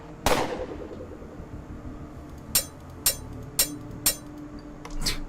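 Flashbangs go off in the video game UnderRail: one loud burst opens, followed by four sharp, evenly spaced cracks and a final pop, over a low, steady background.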